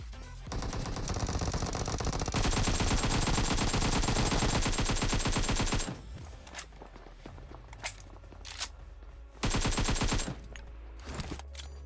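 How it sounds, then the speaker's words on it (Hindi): Heavy automatic gunfire in a video game firefight, with rapid sustained bursts from a building ahead for the first six seconds, then scattered shots, footsteps and renewed loud bursts. "सामने की तरफ से फायरिंग चलने लगी थी इस वाली बिल्डिंग में से"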